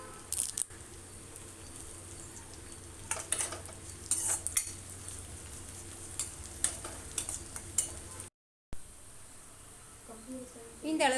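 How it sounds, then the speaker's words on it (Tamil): Shallots and curry leaves fry in sesame oil for a Nellai-style dried-fish curry, giving a low steady sizzle with scattered clinks and scraping stirs, close by, with a brief dropout near the end. "வெங்காயம் நல்லா ப்ரௌன் கலரில் வர்ற வரைக்கும் நம்ம இதை பொரிச்சு எடுத்துக்கணும்."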